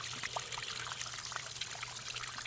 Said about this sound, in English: It purges and a bunch of water spits out.